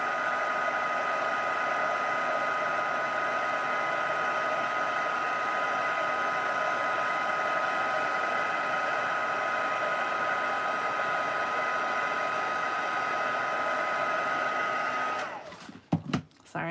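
An embossing heat tool blows a loud, steady whir onto cardstock held in tweezers, running continuously before cutting off abruptly near the end, followed by a few brief handling knocks.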